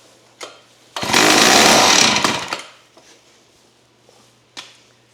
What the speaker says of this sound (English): Now I got to put this thing on the ground to try to pull it, just to show you that it will run.